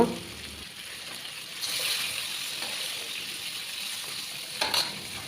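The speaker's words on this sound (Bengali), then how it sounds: "মাছগুলোকে আমি গোল্ডেন ব্রাউন কালার করে ভেজে নিব" Pieces of fish fry in oil until golden brown, giving a steady, moderate sizzle with bursts of stirring and spatter. A brief clatter comes near the start and another near the end.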